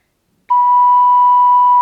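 A single steady, pure whistle-like ocarina note, held evenly for over a second after a sudden start, loud and close with no other sounds.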